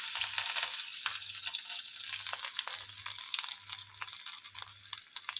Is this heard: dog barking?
no